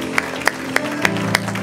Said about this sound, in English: let's give Him a hand clap of praise today